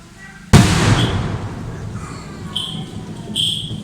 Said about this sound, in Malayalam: ഞാൻ ഇവിടെ നിന്ന് പടക്കം പൊട്ടണത് കാണുകയാണ്.